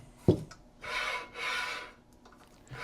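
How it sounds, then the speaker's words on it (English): A newly installed 30-inch YKXONFA ceiling fan being spun by hand, giving two sustained broad rasping rub bursts of about half a second each after a short knock, close and moderately loud. "It's making a lot of noise when I spin it around."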